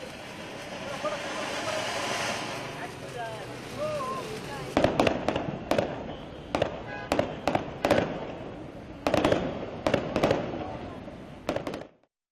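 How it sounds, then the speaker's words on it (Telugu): BSF soldiers set off Diwali firecrackers at a border fence, a run of sharp cracks and pops, some in quick clusters, following a stretch of crackling and whistling with voices in the background. "సరిహద్దు కంచెను కొవ్వొత్తులతో అలంకరించి టపాసులు కాల్చారు"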